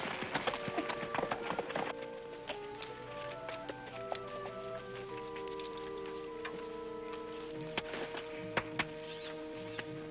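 Horses' hooves clip-clop at a walk in a 1953 western TV episode, an uneven string of hollow knocks and taps mixed with a faint musical score in the background.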